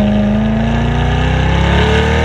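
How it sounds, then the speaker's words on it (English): Cadillac CT5-V with a V6 engine revving hard, a steady loud engine drone with rising harmonic tones through the whole stretch, close and continuous with no voices. "It has that nice, you know, upshift and the little crack and pops every time you shift."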